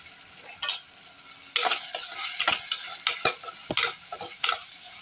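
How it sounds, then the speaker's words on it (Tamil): Tomatoes sautéing in oil in a pan for drumstick kurma, a steady soft sizzle broken by scraping stirs of a spoon, close and alone with no talk. "இந்த தக்காளி சாஃப்ட் ஆகிற அளவுக்கு வதக்கணுங்க."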